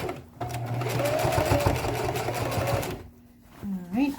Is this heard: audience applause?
no